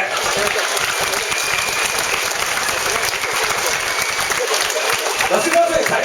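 Studio audience applauding the hosts of a Hong Kong web radio station's sixth anniversary event, a sustained burst of close, dense clapping, steady and loud with a voice talking over it.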